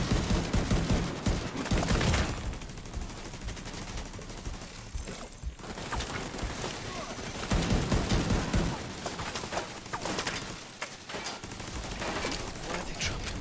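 Dense, continuous gunfire from weapons in The Division 2, with bursts and overlapping shots clustering in a loud, busy firefight that runs nearly the whole time without letting up.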